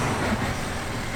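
A Nissan Titan XD pickup with a newly fitted exhaust drones at a steady low pitch, a continuous deep rumble with no voices over it.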